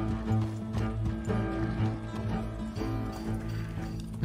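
A horse's hooves clip-clop at a gallop in the Red Dead Redemption II video game, a quick, close drumming rhythm with game music and ambience underneath.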